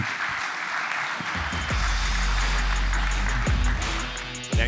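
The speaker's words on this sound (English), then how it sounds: "round of applause for our new joiners at Startup Autobahn" Audience clapping at an expo main stage for startup program newcomers, a steady broad patter layered with low booming stage sounds and thumps throughout.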